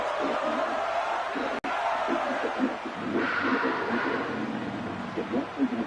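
Crowd noise from an EA Sports College Football night game fills the background, a continuous loud stadium roar that swells partway through, heard under steady commentary talk.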